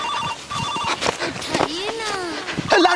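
A telephone rings in a Bhojpuri comedy scene with a short repeating electronic ringtone, heard near and steady under people talking over it.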